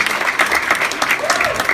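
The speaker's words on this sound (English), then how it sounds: "One more round of applause for the guys who put this show together" An audience at a comedy show claps and applauds in a dense, loud burst, with a voice speaking over the clapping.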